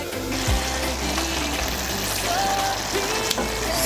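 Pigeon peas cooking under a lid in a pot with tomatoes, a steady loud sizzling bubble with brief clinks, no speech.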